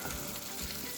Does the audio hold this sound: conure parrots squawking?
no